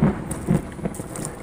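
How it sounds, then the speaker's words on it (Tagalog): Heavy rain pours down steadily on a muddy unfinished farm-lot road, a dense continuous wash with a few louder low gusts or rumbles rising through it. "At malakas na naman ang ulan."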